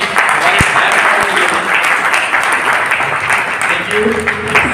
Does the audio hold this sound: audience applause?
yes